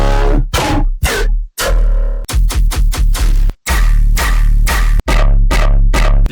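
Heavy dubstep bass loops and one-shots play in a loud, choppy sequence of distorted, growling wobbles and stabs with sharp cuts and rhythmic gating, alone without any talk.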